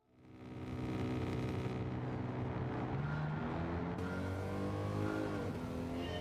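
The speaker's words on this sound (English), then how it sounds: "listen to the engine over the top of it." Car engine revving in the racing video game Gran Turismo 7, a loud steady harmonic drone that climbs and shifts pitch through gear changes, sustained for the whole stretch without talk.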